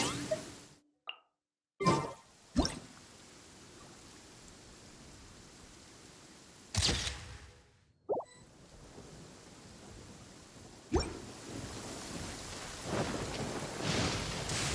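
Steady rain hiss and rolling thunder in the Genshin Impact game world, with several sharp loud cracks and bursts standing out over a constant wet downpour background.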